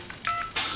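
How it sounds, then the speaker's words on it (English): A Trimline telephone gives out DTMF dialing tones, three short steady tone bursts in quick succession, narrow-band and close. "I'm going to dial a number."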